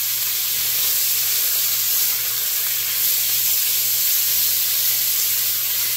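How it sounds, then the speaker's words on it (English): Sausage sizzles steadily in a hot pan for red beans and rice, a constant close frying hiss with no talk over it. "I'm going to just fry this here for a couple of minutes until everything just looks golden and nice and brown."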